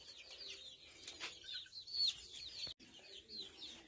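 Free-range chickens cluck and chirp softly at a distance on a Sindhudurg poultry farm, scattered calls repeating over a quiet background, with one brief sharp knock partway through.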